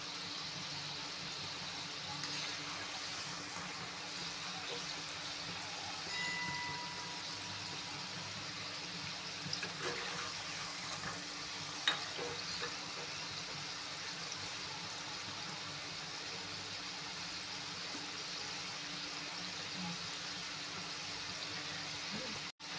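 Fried modak dumplings sizzling in hot oil, a steady low hiss and bubbling that continues evenly throughout, with a faint voice in the background.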